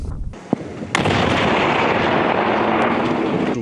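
Sappers of a National Guard brigade destroy shells in the Donetsk region: a sharp pop, then a loud sustained blast roar that fills the rest of the clip.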